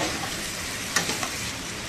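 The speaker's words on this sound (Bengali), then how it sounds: "এখন ভালো করে আলু আর সয়াবিনটা কষে নেব।" Potatoes and soybean chunks stir-frying with spices, bay leaf and chilli in a pan, a steady close sizzle with a few brief scraping stirs, no voices.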